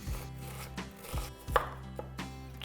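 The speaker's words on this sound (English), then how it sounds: "So I'm just gonna take kind of the matchsticks I made and I'm just gonna chop these." Knife chopping carrot matchsticks on a cutting board for a broccoli cheddar soup, a handful of separate quiet thuds spaced irregularly, close and soft, with no talking.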